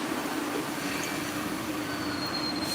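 An old MBTA Red Line train's wheels squeal steadily at Downtown Crossing under a constant rumbling roar, with a high whine running through it.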